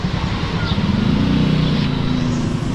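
A motorcycle rides along an outdoor road in light rain, its engine producing a steady, close, continuous drone with a low hum that barely varies throughout.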